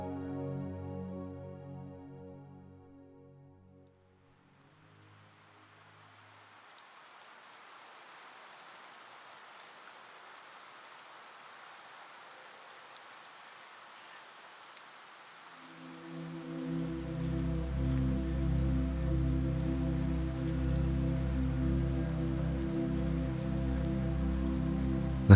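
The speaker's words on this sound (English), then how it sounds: "the sound of gentle rain coming down outside her window" Gentle rain falls steadily outside a window, a soft continuous patter. Quiet musical tones fade out at the start and swell back in near the end.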